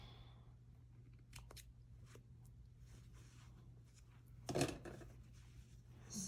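Small scissors snip loose threads on doll-sized jeans during sewing, giving a few faint, quick cuts over a low steady hum, with one sharper clustered snip near the end.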